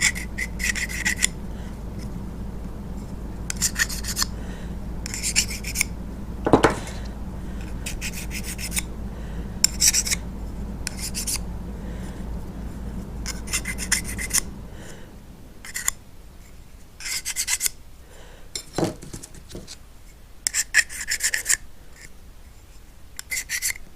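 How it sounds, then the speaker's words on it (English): A hand file rasps along the edges of fiberglass roof panels in repeated bursts of short strokes, fairly close and alone, with a low steady hum beneath for the first part. "file off any burrs on the edge"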